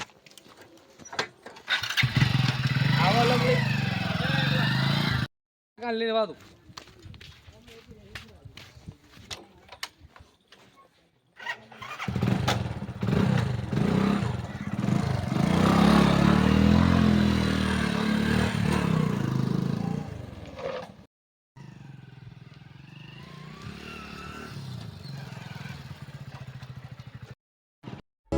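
A motorcycle engine cranks and catches, then runs with a loud, rough rumble that rises and falls, with some clattering and brief voices nearby.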